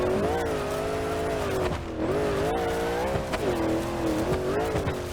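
A go-kart engine revs continuously while off-roading in BeamNG.drive, a steady buzzing drone with wavering pitch as the throttle rises and dips, loud and close, with brief tire-squeal textures and no talking.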